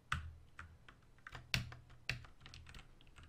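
Computer keys pressed in quick irregular bursts while playing a Roblox cone simulator game, soft clicky taps at close range, some clustered together and some spaced apart, with no talk over them.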